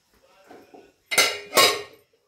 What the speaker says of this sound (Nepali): यहाँ भने चाहिँ मैले भात पस्किनु हुँदैछ।